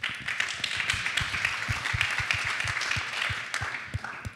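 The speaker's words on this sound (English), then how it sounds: "Every time you stop talking, I wanted to clap, so I'm glad everybody clapped this time." An audience at an education conference panel applauds, a dense, steady wash of many hands clapping that carries on for the whole stretch without a break.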